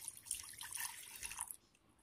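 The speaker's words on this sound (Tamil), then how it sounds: "இப்போ நான் வந்து ஒரு பேனில் ஒரு ஒரு கிளாஸ் அளவுக்கு தண்ணி சேர்த்துக்கிறேன்" Water poured from a glass into a cooking pan while making homemade mango juice, a steady splashing, trickling stream for about a second and a half that stops abruptly, close and fairly quiet.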